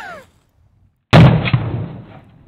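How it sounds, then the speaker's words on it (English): A .50 AE Desert Eagle pistol fires a single sharp, loud shot at a soda can after a moment of quiet, the blast decaying over about a second. "it's going to be the 50 AE versus soda can."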